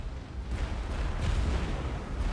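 Explosions in The Falconeer: Warrior Edition video game, a rumbling, thundering roar of blasts layered into a continuous heavy boom with no talking.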